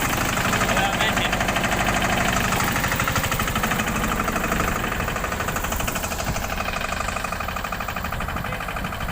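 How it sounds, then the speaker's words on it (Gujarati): A 15 hp Steeltrac tractor engine runs steadily in first gear at about 1500 rpm, a loud, close, continuous chugging drone with a rough knocking texture that holds through the whole stretch. "તમે જોઈ રહ્યો છે 15 એચપીનું સ્ટીલ ટ્રેક કંપનીનું ટ્રેક્ટર છે, એ ધીમે ધીમે આગળ વધી રહ્યું છે"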